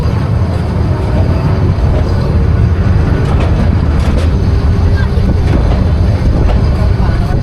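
A Parjatak Express 816 passenger train crosses the old Kalurghat bridge, a steady, loud, close rumble mixed with wind buffeting the microphone throughout.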